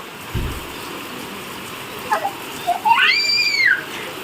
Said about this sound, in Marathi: कसा पाऊस पडतोय ना